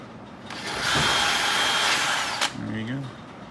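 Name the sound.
power drill clearing burrs from a hole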